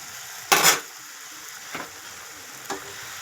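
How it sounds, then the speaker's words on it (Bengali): Spices sautéing in a pan with added water give a steady low sizzle, broken by one loud burst of hissing and two fainter stirring scrapes, all close by. "এই জলটা দিয়ে আবারও নাড়তে থাকবো, কারণ মশলাটা কষতে থাকবো যাতে তার কাঁচা গন্ধটা চলে যায়।"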